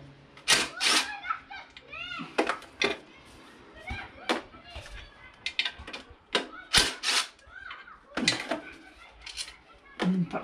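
A ratchet with a deep 12mm socket works on a Toyota Celica engine bay, giving scattered metallic clicks and clacks up close while someone talks between them.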